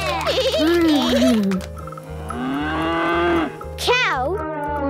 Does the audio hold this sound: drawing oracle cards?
no